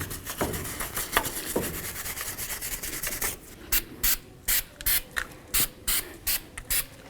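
Scrubbing on the mating surface of a Jeep Wrangler steering knuckle, first steady rubbing and then a run of short, regular scraping strokes, close and moderately loud with no talking.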